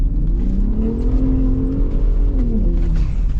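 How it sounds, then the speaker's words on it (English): Ford Raptor pickup drifting off-road, its engine holding a loud, steady, close roar with slight pitch wavers, alone without talk. "It's so fun just to do like little drifts and stuff with the Raptor."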